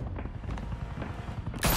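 Rapid gunfire in Batman: The Telltale Series rattles as a dense, close volley and ends in a loud burst.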